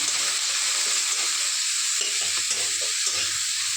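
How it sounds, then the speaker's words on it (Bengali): Fish drops into hot oil and fries with a strong, even hiss of sizzling, close and constant, with faint low handling bumps in the latter half. "এবার তেলটাও গরম হয়ে গেছে, মাছটা ছেড়ে দিলাম।"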